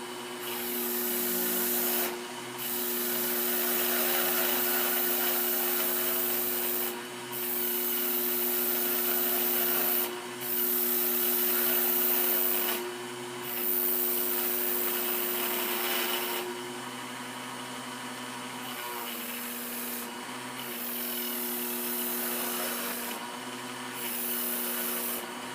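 A Dremel rotary tool whines steadily while trimming a Tamiya mini 4WD tire, its high motor hum overlaid with gritty rubbing in repeated bursts separated by short pauses.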